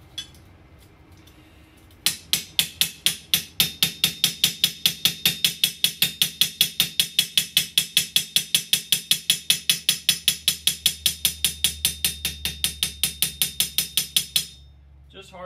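Rapid, steady metallic taps of a carbide-faced planishing hammer on a hardened steel blade of about 59 Rockwell, ringing bright and close, repeated dozens of times in an even rhythm for around twelve seconds before stopping.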